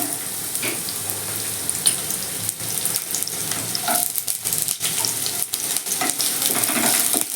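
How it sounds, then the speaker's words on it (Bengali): Onion dropped into hot oil in a pan crackles and sizzles steadily, with scattered clicks and scrapes of stirring, close and fairly loud, with no one talking. "তেলটা গরম হয়ে গেছে প্রথমে আমি পেঁয়াজটা দিয়ে দিচ্ছি"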